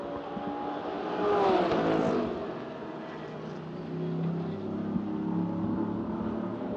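Race cars in a Pièces Auto Hyper Sprint race at the Hockenheimring cross the finish line, engines swelling as one car sweeps past near the middle, then a steady engine drone carries on at a moderate distance.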